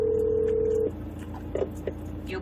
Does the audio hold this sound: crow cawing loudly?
no